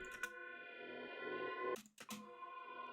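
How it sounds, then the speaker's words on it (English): A sustained, dissonant synth pad chord washed in reverb for hypnotic techno, with a brief dropout and swell near the end before the tones ring on. "Then you will create some dissonant sound with that chord. And then it's just all puts everything into a reverb"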